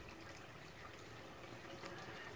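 Water flows through a pipe into a barrel of a 600-gallon aquaponics setup, a faint, steady trickle and wash with no clear breaks.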